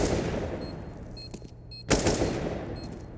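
Rapid automatic rifle fire in a Counter-Strike match on the Mirage map, with a short burst early, a louder sharp volley near the end and a steady game hum underneath, no voices.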